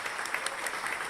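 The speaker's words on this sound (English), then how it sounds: "Everyone, please give them a huge round of applause." Audience at an awards ceremony clapping, a steady, even patter of many hands heard at moderate distance, briefly and without voices.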